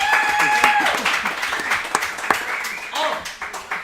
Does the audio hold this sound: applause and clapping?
yes